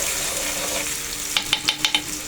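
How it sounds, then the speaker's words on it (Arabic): Onion frying and sizzling in oil in a pan for an Egyptian-style pasta sauce, a steady hiss broken by five sharp, close scrapes of a utensil stirring it. "هنبدأ نحط البصل بتاعنا كده. هتقلبي البصلة علشان ما تتحرقش"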